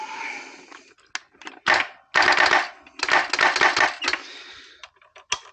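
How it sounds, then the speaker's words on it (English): A motorcycle's decompression solenoid clacks on pressing the start button, a series of sharp mechanical clacks and rattling bursts, irregular and close, with short pauses between clusters. "the noise you hear is the decompression solenoid clacking"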